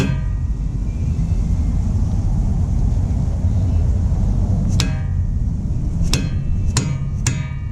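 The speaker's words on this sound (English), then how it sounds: "This is the impact screwdriver I'm talking about." Four sharp metallic hammer strikes on an impact screwdriver loosening a rear wheel bearing bolt on a Mk4 R32, ringing out over a steady low rumble of background noise, the last three coming in quick succession.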